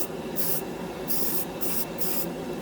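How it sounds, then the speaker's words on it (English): Mr. Surfacer primer, grade 1200, sprayed from an aerosol can in several short hissing bursts, four distinct spurts over a steady background, close and fairly loud with no talking. "primer I use is Mr. Surfacer in the spray can"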